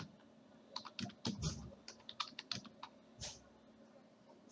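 Typing a new password on a computer keyboard during a Rediffmail password reset: a quiet run of quick, irregular key clicks and taps with brief pauses, close up, with no talking.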